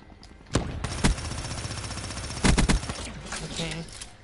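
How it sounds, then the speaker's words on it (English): A Lv8 basilisk gun fires in a video game: a few loud, punchy shots spaced out at a slow rate, then a quick cluster of blasts, over a steady game ambience. "this is the one of the new weapons I got, the Lv8 basilisk"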